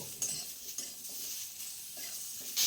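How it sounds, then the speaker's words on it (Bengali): Hog plum pieces fry with salt and turmeric over a low flame for chutney, giving a soft steady sizzle with light stirring scrapes, close and fairly quiet. "এর মধ্যে অল্প পরিমাণে লবণ আর সামান্য পরিমাণে হলুদ গুঁড়ো দিয়ে মিশিয়ে লো ফ্লেমে 1 মিনিট ভেজে নেব"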